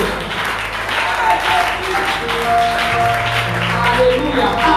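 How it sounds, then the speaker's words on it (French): Applause rises from a church congregation during worship, a dense, steady wash of clapping that stays fairly loud throughout, mixed with voices and a sustained musical tone. "Acclamons Jésus"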